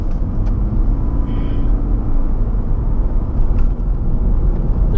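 Car driving through town, negotiating a roundabout on the way toward a reserve: a steady low engine and road rumble runs close and continuous throughout, with a faint brief tone partway through.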